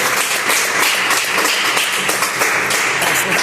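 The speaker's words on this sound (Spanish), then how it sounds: "denle una fuerte ofrenda de aplauso al Señor" A church congregation claps loudly and continuously during a Spanish-language family-month service, a dense, even wash of hands close by with no voices on top.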